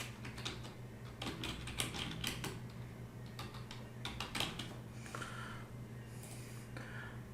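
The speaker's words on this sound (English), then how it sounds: "So simply type the" Rapid typing on a computer keyboard while entering an address in CorelDraw for a business card design, with irregular bursts of clicky keystrokes over a steady low electrical hum, close and moderately quiet.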